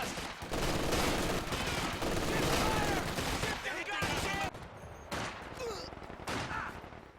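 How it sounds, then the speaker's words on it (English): MG42 machine gun fire in the strategy game Company of Heroes 2, with dense overlapping bursts and gunfire filling most of the clip, then thinning to scattered shots near the end. "this MG42 is going to be locking down the south"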